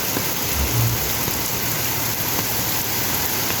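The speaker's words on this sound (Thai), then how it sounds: "ฝนตกหนักมาก" Heavy rain pouring down on a flooded street in Bangkok, a dense, loud, unbroken hiss with a faint low rumble underneath.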